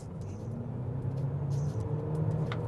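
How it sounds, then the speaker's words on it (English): A BYD Song L DM-i plug-in hybrid car accelerates through city streets from about 55, heard from inside as a low, steady rumble with mild road noise and no talking. "I will just push a pedal of accelerator in normal mode from 55."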